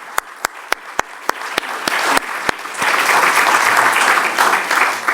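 Conference audience applause that opens with a few loud, evenly spaced single claps and swells into a dense, sustained round of clapping from many people in the hall.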